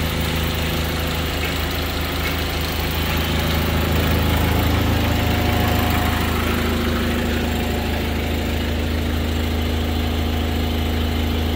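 A Marini MRP 350 remote control piling rig idles just after starting, a loud, steady low diesel rumble with a knocking throb that runs unbroken throughout, with no voices.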